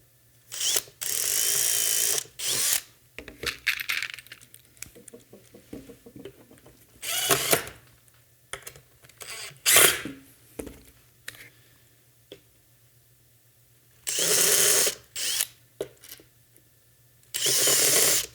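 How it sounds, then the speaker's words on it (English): A power drill bores holes for a bumper assembly in several bursts, some short and some of two seconds or so, with quieter handling clicks and rattles between them. "I'm going to also push in while drilling it"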